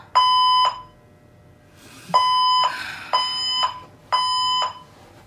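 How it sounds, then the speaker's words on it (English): A loud electronic fire alarm sounds in four shrill pulsing bursts with short gaps between, blaring close by. "So basically the fire alarm went off"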